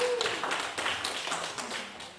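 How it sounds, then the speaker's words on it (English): A room of people gives brief, light applause, scattered claps fading over a couple of seconds. "some applause in the room"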